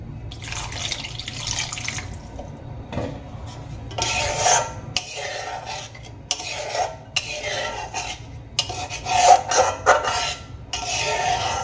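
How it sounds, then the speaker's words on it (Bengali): Water poured into a pan of Bengali-style egg masala curry, a close, steady splashing and running-water sound with brief pauses and some clinks of the pan, no talking. "মশলার সঙ্গে এবার আমি এর মধ্যে আরো সামান্য জল দিয়ে দেব"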